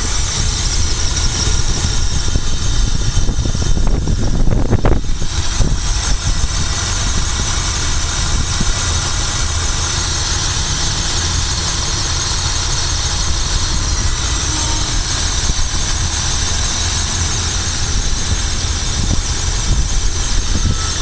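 A car engine fitted with an HHO hydrogen generator idles steadily and close, a continuous mid-pitched drone with a faint squeal, in cold weather, with a brief disturbance near the start and no talk.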